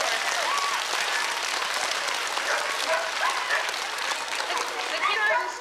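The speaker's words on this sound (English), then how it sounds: "Let's give them a round of applause." A school assembly audience applauds student readers, a sustained round of clapping heard at a moderate distance, with children's voices and brief shouts mixed in throughout.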